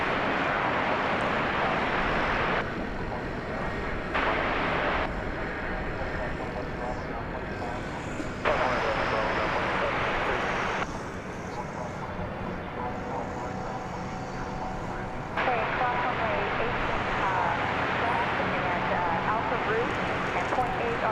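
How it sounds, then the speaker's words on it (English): An Airbus A321neo airliner at Dallas Fort Worth airport, a broad steady engine roar that swells and dips in stages over about twenty seconds as the jet passes, heard from a distance outdoors. "Flight 2978, an Airbus A321 Neo. New engine option."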